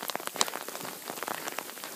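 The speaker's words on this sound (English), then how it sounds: "Alright, so it's officially raining." Rain falling in the Sierra on the John Muir Trail, heard as steady close patter with many distinct drops tapping on a surface.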